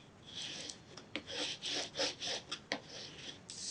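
Paper is burnished onto chipboard with quick, rhythmic rubbing strokes, each a soft, close scrape. No voices are heard.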